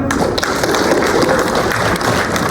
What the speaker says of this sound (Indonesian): Oke, beri tepuk tangan yuk.